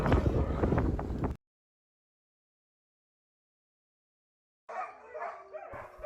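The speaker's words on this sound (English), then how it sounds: "We were greeted by a pack of playful pups, each one bursting with energy and excitement, eager to show off their skills." Sled dogs in Skagway, Alaska, bark eagerly in a noisy burst, then the sound cuts to silence before more barking and yips resume nearby.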